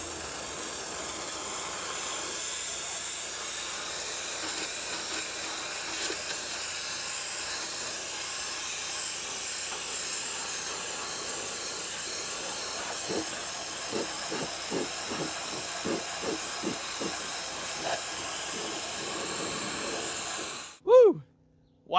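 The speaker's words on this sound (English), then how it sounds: "right now we're gonna be spraying the water and it's gonna suck up the sand as well" A wet sandblaster spraying water and sand on a Ford SVT Lightning truck frame: a steady, loud spraying hiss runs throughout, with rhythmic pulsing bursts partway through before a sudden squeal and cutoff at the end.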